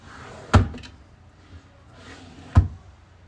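Drawers of a chest of drawers in a rented flat slide and shut, two sharp wooden knocks about two seconds apart with softer sliding rumbles between, close and fairly loud.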